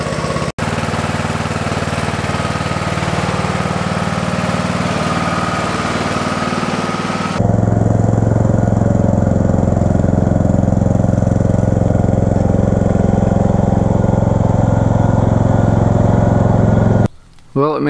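A lawn tractor engine runs steadily and loud throughout, with an occasional misfire breaking its rhythm; the pitch shifts partway through, and a brief dropout comes near the end.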